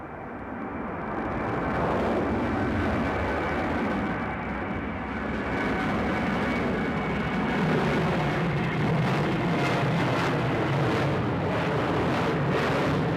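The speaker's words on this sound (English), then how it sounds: "No spoilers deployed, so it may be just a straight out touch and go." A plane climbing away after a straight-out touch and go at East Midlands Airport, a steady broadband engine roar holding loud and even for the whole stretch, with wind rumble underneath and no voices.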